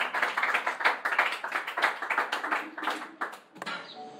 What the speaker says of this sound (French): Acclame très fort pour ça.